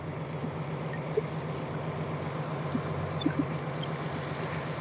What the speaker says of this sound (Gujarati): કેમ કે એક સાથે ઘણી બધી બોટો જાય.